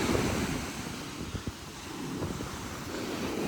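Ocean waves wash steadily onto Panama City Beach on a morning walk, a continuous surf roar mixed with gusty wind noise on the microphone, with no voices.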